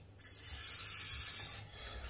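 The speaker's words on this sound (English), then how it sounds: "A bit of silicone spray" Silicone spray hissing from an aerosol can onto rubber parts of a Honda CB750 K2 motorcycle, one steady burst of about a second and a half, close and alone.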